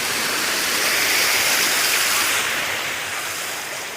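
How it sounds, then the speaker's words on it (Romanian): A small mountain waterfall in Valea Cerbului near Bușteni makes a close, loud, steady rush of falling water, a continuous hiss that eases slightly toward the end. "Uitați o altă mini cascadă."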